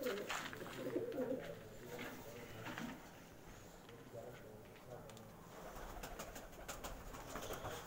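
Pigeons coo softly in a breeder's loft, low throaty calls under a voice speaking Hindi-Urdu, faint and somewhat distant with light rustling.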